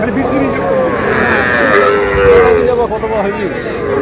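Bull calves low loudly and close at Aftabganj cattle market, several drawn-out moos overlapping against a busy crowd background, with people talking nearby.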